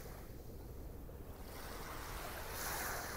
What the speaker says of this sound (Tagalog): Kalmang-kalma ang dagat dito.